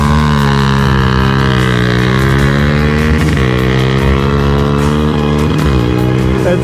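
A dirt bike engine runs loud and close, a dense buzzing drone that holds steady and shifts pitch slightly a few times as the throttle moves, with no talking.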